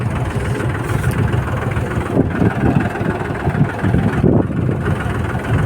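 A tractor engine runs with a steady, low diesel rumble close by, continuous throughout with slight fluctuations and no talking.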